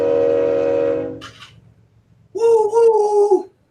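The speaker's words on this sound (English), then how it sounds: "Oh, y'all heard the train." Up close, a train horn gives a sustained chord-like blast that fades out, followed by a second loud, wavering horn blast a couple of yards away.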